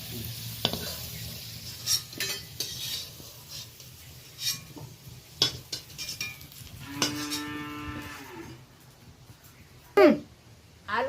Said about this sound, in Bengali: লবণ হলুদ দিয়ে আলুটা বেশ লালচে করে ভেজে নিলাম